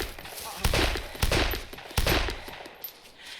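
Bursts of gunfire in the zombie survival game DayZ, three or four loud sharp shots in quick succession, each with a short echoing tail, alone with no talk.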